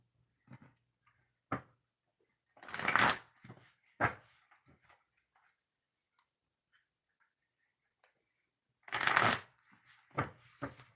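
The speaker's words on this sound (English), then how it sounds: "I'm going to shuffle this twice and then we'll get started" Oracle cards are shuffled by hand in two distinct riffling bursts several seconds apart, with scattered light taps and card handling between them in a quiet room.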